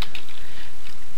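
Typing on a computer keyboard, a short burst of quick, light key clicks, close and fairly clear with no talk.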